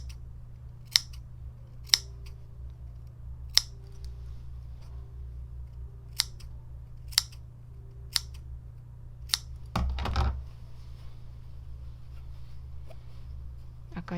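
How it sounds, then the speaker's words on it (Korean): Scissors snip fabric along the curved hood edge of a dog cape, about nine sharp, evenly spaced clicks up close over a low steady hum, followed by a brief rustle. "얘도 여기 모자 곡선 부분 가위밥 줄게요."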